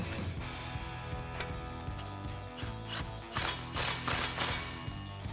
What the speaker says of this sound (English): we can go ahead and snug up our clamp using our 15mm socket